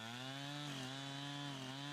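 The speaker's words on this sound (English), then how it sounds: "just go through it with the chainsaw" A chainsaw cuts through a pine log, its engine holding a steady, loud, buzzing drone throughout with only slight pitch shifts as the chain bites into the wood.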